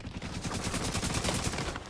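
Rapid automatic gunfire in The Division video game, a fast regular rattle of shots sustained through the whole stretch at moderate distance, without talk over it.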